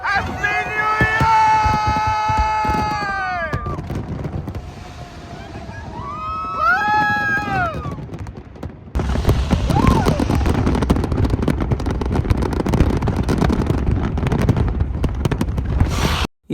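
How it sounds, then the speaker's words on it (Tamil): Sydney's New Year fireworks burst over a huge crowd: the first half is full of rising whistles and cheering voices, then a dense, continuous roar of booming explosions and crowd noise takes over and stays loud until the end. "இது சும்மா சிட்னி ஃபயர் ஒர்க்ஸோட ஒரு ட்ரெய்லர் தான்"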